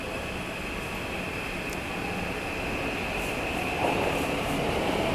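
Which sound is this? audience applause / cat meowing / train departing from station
train departing from station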